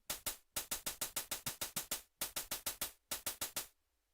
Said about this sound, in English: that tick tick tick tick tick tick tick tick tick tick tick tick, that noise you just heard